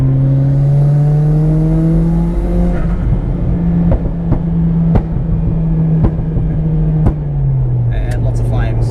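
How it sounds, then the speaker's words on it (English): A loud Mitsubishi Evo X engine drones and revs under talk at wide-open throttle, punctuated by several sharp exhaust pops and bangs at irregular intervals. "Not sure if you can hear those massive pops and bangs, but that's definitely flames by the sounds of it."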